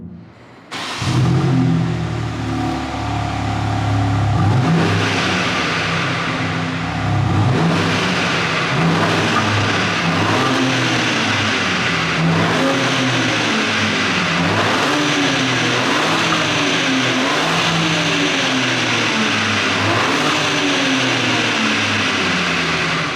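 A 2021 BMW M3 engine revs hard again and again through an M Performance exhaust in Sport Plus mode, pitch climbing and falling in repeated sweeps.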